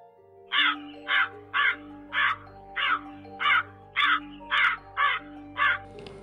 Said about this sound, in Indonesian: Apalagi ditambah dengan suara burung gagak yang entah dari mana asalnya.